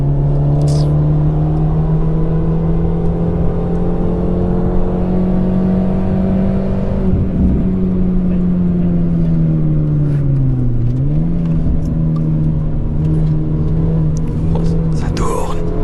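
A Skoda lapping fast on the Nürburgring Nordschleife, heard from inside as a loud, steady engine drone that holds a constant pitch, dips briefly and then recovers, with faint voices underneath.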